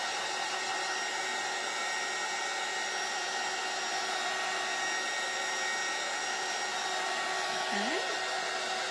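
A hair dryer blows steadily on a painted frame from a vintage frame kit, drying a coat of paint with a constant close whirring hum that runs unbroken throughout, with a brief faint squeak near the end.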